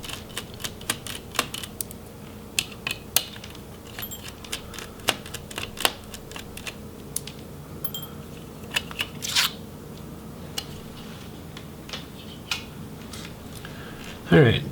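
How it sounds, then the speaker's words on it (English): Small screws being backed out of a Lenovo ideapad Flex 5 1570 laptop during disassembly, heard as a steady run of faint, close ticks and scrapes from a screwdriver, ending in a louder clatter. "And then we'll remove the screws."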